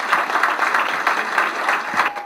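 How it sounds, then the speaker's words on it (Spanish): A crowd at a business opportunity meeting breaks into dense, close applause, a busy wash of many hands clapping at once for a couple of seconds. "un aplauso fuerte para ustedes"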